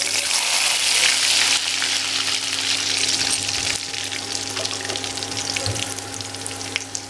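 Loud continuous sizzling and crackling of garlic frying in smoking-hot mustard oil, steady throughout with no voices.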